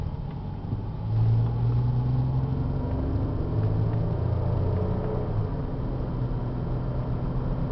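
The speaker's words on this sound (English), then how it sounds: "take it up to 60 miles an hour real quick. Let you see how it runs." A Buick Park Avenue's engine hums at low pitch and then rises and holds as the car speeds up toward 60 mph, with steady road rumble underneath.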